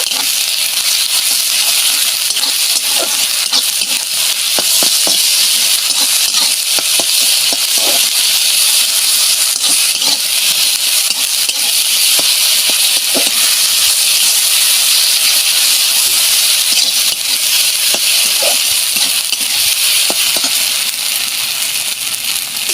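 A ginger, garlic and green chili paste fries in a pan with a loud, continuous hiss and scattered small pops and clicks throughout. No one speaks.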